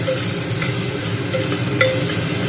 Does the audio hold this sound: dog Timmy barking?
no